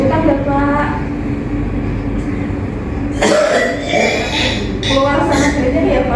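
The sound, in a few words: patient coughing during chest physiotherapy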